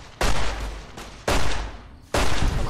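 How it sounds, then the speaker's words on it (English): Gunfire in Fallout: New Vegas, three loud, close blasts spaced about a second apart, each with a sharp onset and a rumbling tail that carries through to the next shot. "And we'll aim a couple of shots at this one."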